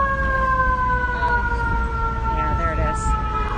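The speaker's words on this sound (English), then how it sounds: "Sirens and horns, and there's just nowhere for any of these vehicles to go." Fire truck siren wailing through stalled New York City traffic during a blackout near 33rd Street, its rising and falling tones steady and close, with car horns and street noise underneath and faint voices in the crowd.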